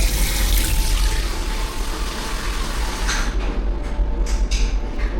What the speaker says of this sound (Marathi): पहिले मी माझ्या हात धुतो आणि तुला मग पाणी लावतो